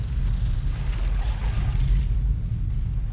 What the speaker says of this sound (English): these missiles come through and a few of them manage to make their way to the turrets and damage them